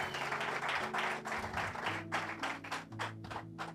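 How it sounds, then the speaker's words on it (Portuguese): Church congregation clapping together in a dense, rhythmic burst over accompanying music tones, with steady beats at moderate distance through the whole stretch. "Aplauda o Senhor."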